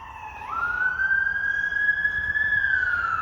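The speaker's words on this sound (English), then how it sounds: "we have lots of sirens that I'm not used to" A wailing siren rises in pitch and holds a steady high tone, moderately loud at a distance from a garden in northwest Georgia, with no other sounds.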